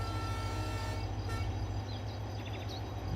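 An Indian express train, the Kashi Vishwanath Express in Train Simulator, rumbles loudly and continuously with a deep engine drone, and faint short horn toots sound near the end.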